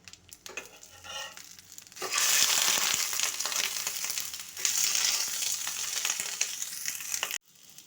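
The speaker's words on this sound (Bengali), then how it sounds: "এক পাশ ভালো করে ভাজা হয়ে গেলে অন্য পাশে উল্টে দিন।" Paneer paturi wrapped in leaves fries in mustard oil in a covered pan, a loud, continuous sizzle that bursts in after soft rustling and handling, then cuts off abruptly near the end.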